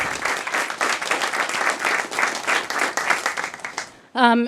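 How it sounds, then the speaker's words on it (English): Audience applauds first responders at a naming and dedication ceremony for a community health center, a steady dense wash of clapping for about four seconds that cuts off as a voice begins speaking at the end. "another round of applause for all those first responders who are here"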